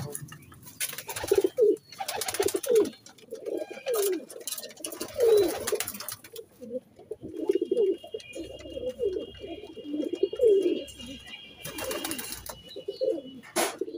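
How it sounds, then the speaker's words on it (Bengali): A Jiriya Madras pigeon coos close by in a steady series of repeated throaty calls, with faint background noise between them. "যেটা আপনাদেরকে শখ করলাম সেই পায়রা দেখুন ডাকছে দেখুন"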